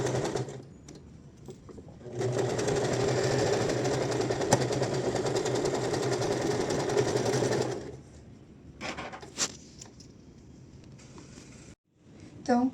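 A sewing machine stitching soft plush fabric for a slipper bootie runs in one steady, loud whirring burst for about six seconds, then stops, leaving quiet handling noises and light clicks.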